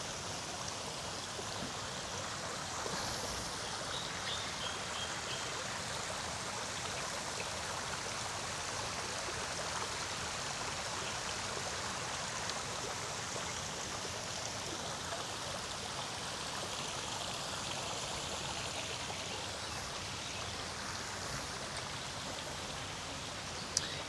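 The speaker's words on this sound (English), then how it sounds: "So this is where that pool is that has the waterfall that's facing our room." A waterfall pours steadily into a resort pool in Bali, a constant broadband rush of falling water like heavy rain, moderately distant and even throughout with no voices.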